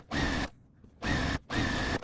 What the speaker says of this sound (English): So I'm going to run a scant 1/4 inch seam on this.